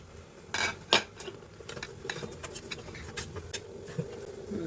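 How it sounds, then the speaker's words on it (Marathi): Red amaranth greens being flipped in a steamer, a few soft utensil clinks and scrapes near the start, then quieter intermittent tapping against a low hum, with no one talking. "आता आपण ही भाजी पलटतोय."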